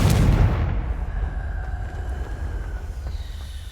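A Confringo spell explosion in the Hogwarts Legacy video game: one loud, heavy blast at the start that rolls into a long, rumbling decay with crackling debris, no talking over it.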